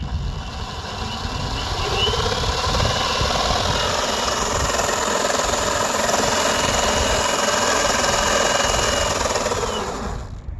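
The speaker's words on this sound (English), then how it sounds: "You cannot beat the sound of a chain drive board." A chain-drive electric skateboard motor whirs loudly and steadily, rising in pitch as the board gets up to speed and holding a constant drone for about ten seconds with no talking.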